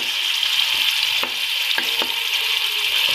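Onions frying in a pan with vinegar for chicken korma, a steady close sizzle with a few soft stirring clicks and scrapes, no voices.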